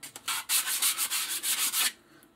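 Coarse sandpaper scrapes a white plastic heating pipe in repeated quick back-and-forth strokes, about eight rough rasping passes close by, then stops.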